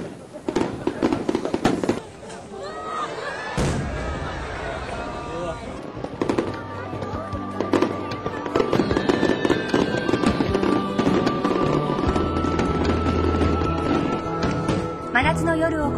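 Fireworks at a summer festival in Tamano, Japan explode repeatedly, with sharp bangs and crackling bursts at irregular intervals, while crowd voices and cheering carry underneath.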